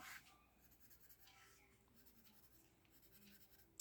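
A Faber-Castell Black Edition colored pencil scratches softly across drawing paper in quiet, continuous strokes, close by and very faint, with no talking.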